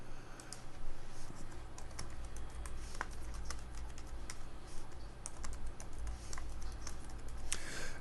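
Steady clicking of a computer keyboard as a new admin password is typed, the keystrokes close and continuous over a low background hum, with no talking.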